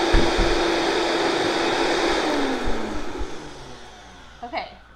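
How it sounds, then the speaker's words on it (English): Close, loud electric blender whirring steadily while pureeing butter chicken sauce made in an Instant Pot, with the motor pitch sagging and the noise easing off toward the end. "You're going to wait and you're going to blend it until you don't see any big chunks anymore."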